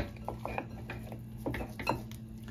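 Beef short ribs tossed with seasoning in a bowl for a slow cooker, soft wet squelches and light clatters against the bowl coming in irregular bursts, close and fairly quiet.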